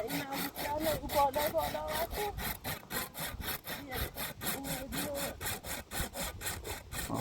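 A hand saw cutting through firewood, a steady, rapid back-and-forth rasp of about three strokes per second, close and loud, with a voice talking faintly underneath.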